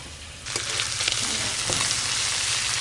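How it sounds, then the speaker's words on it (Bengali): Prawns rubbed with salt and turmeric fry in oil, a close, dense, continuous sizzle that swells louder about half a second in, with scattered crackles and faint utensil taps and no voices. "লবণ হলুদ মাখানো চিংড়ি মাছগুলো খুব ভালো করে ভেজে নেব"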